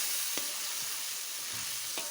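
Mie goreng noodles with green chili frying in a pan, a steady hiss of sizzling broken by a couple of light stirring scrapes, close and continuous without talk.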